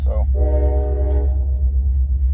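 A train horn sounds one sustained, fairly loud blast of about a second over a constant low rumble of the passing train, with a brief spoken word near the start.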